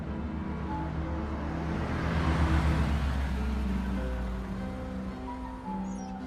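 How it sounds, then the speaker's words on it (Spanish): Bus arriving, a low rumbling engine and road noise that swell as it draws near and then ease off, steady and fairly loud with no voices. "Mira, ya llega el autobús."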